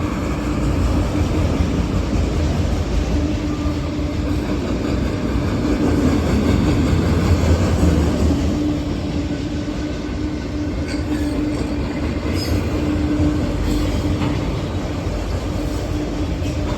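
A heavy freight train rumbles steadily past at close range, with a continuous roar and faint metallic squeals and clatter throughout.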